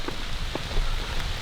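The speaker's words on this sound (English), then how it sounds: "And it's raining." Rain falls steadily on a cold hiking trail in New York, a dense, even patter with a few brief louder drops, close by and continuous, with no talking.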